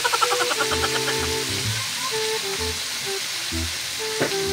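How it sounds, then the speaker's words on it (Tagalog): Pork steak sizzles and fries in a pan, a continuous crackling hiss running steadily, with soft background music playing alongside. "Piprituhin muna natin siya."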